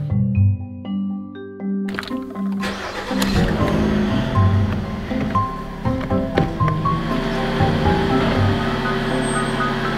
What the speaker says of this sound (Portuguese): Eu ouvi barulho de carro.